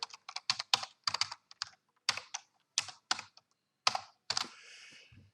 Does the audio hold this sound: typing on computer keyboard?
yes